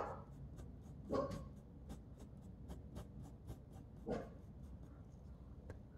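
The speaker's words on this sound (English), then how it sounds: "Sorry, dog's barking at something outside." A dog barks twice at something outside, faint and distant, while a pencil scratches steadily and closely across paper during a drawing of a cup.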